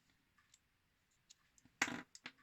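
A push-type mechanical pencil gives a few faint, sparse clicks close by, followed by one sharper, louder click and a couple of quick trailing ticks in an otherwise quiet room.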